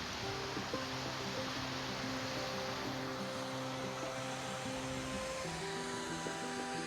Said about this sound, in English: And everybody likes watching the waterfall.